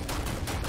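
A small gun firing in Starfield, two or three quick sharp shots in rapid succession, loud and close, packed into under a second.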